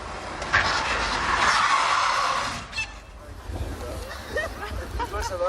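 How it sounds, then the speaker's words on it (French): A rally car driven by Jean Ragnotti slides into a handbrake spin, tires skidding loudly for a couple of seconds before the engine settles, with people chattering in the background. "ce moment où il se gare au frein à main, quoi, en tête à queue"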